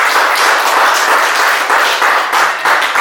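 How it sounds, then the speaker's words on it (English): An in-person audience at a webinar on the Jubilee Year of St Joseph and Marriage Encounter breaks into a dense, steady round of applause. It stays loud and unbroken for about three seconds, with no speech over it. "I think we should give Give them a very big round of applause"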